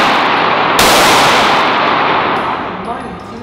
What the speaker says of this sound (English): give me two shots. We're going to do a double tap.